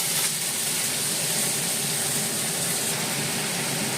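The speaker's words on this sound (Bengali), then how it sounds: "এবার আলুর সাথে আর একটু ভেজে নেবো।" Potatoes and partly fried onions sizzling together in a pan, a steady, dense hiss that fills the whole stretch without pauses or speech.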